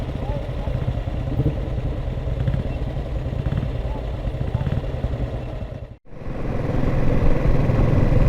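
A pre-war motorcycle rides along a road, its engine droning steadily and close with mechanical clatter, briefly cutting out before returning louder; someone talks over it.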